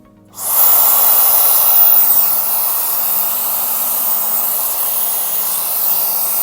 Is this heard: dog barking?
no